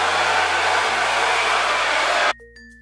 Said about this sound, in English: Now I have to blow dry it.